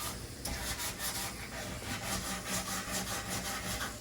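Old paint is worked off a 1969 Mustang front fender extension with steady, rhythmic scraping and rubbing strokes, close and fairly quiet, repeating without pause.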